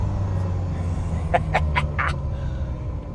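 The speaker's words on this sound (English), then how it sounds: "Oh, listen to this car." A Ferrari Mondial drives along with a low, steady engine drone, close and continuous, and a few brief sharper chirps rise over it midway.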